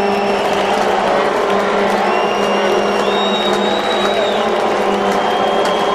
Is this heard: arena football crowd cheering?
yes